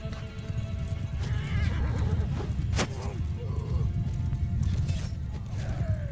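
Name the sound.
horses of horse archers in Bannerlord video game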